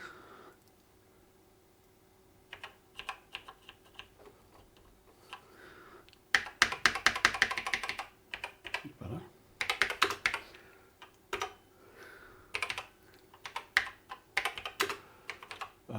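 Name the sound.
typing on a BBC Master 128 computer keyboard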